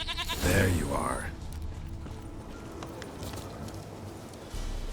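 A goat in The Witcher 3 lets out a short bleat near the start, with hoof clatter and a low game ambience running underneath.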